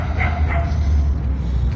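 Dogs bark and yip in an open dog park in Mexico City, a couple of short yelps near the start over a steady outdoor rumble, with no talk.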